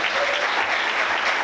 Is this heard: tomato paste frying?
no